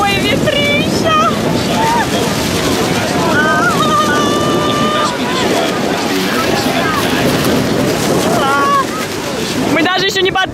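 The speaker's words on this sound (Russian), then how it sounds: "О боже, какой ветрища!" Strong wind buffets the microphone on a tour boat heading toward Niagara Falls from the Canadian side, a constant loud roar mixed with rushing water and spray, while excited voices exclaim over it throughout.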